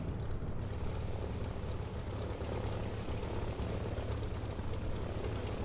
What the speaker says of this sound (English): The aircraft we're going to be in today is this. It's the Cirrus SR22.